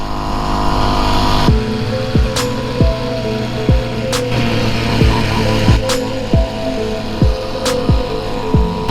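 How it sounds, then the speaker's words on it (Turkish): A 50cc petrol pocket bike revs hard in street traffic, its small engine whining up in repeated rising blips roughly every second over a steady idle drone, close and loud. "Ara gazını da eksik etmiyorum ha."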